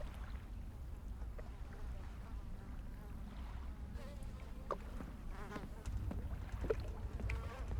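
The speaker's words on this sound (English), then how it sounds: "I keep hearing bugs buzzing" A large fly buzzes in the video game Riven, its faint, wavering drone drifting close and away over a low ambient hum, with a few brief louder passes.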